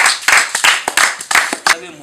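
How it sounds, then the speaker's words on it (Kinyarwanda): Several bursts of hand clapping for an old man at a comedy show, uneven and close, mixed with voices in between. "muha amashyi muzehe"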